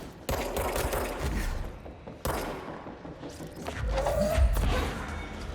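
Sniper gunfire in the action video game Control, two heavy cracking shots a couple of seconds apart with rumbling echo, followed by busy mechanical combat noise and a rising whine.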